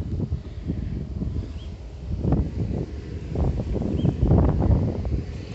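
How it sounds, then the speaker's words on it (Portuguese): Wind gusts across a sugarcane field under a darkening sky before rain, a faint, uneven rustling roar that swells and fades in the open with no voices. "O vento tá vindo pra essa direção, hein?"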